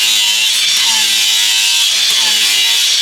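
A power tool cuts porcelain at a builders' trade show, giving a loud, continuous high-pitched grinding whine that holds steady throughout, close up and without any talk.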